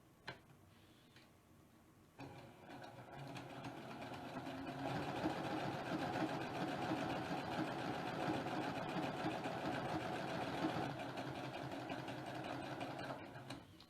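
A sewing machine stitches half square triangle quilt pieces, starting with a few faint ticks before settling into a steady, close mechanical whir that runs for several seconds alone.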